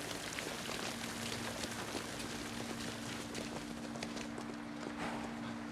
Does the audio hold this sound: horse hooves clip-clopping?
yes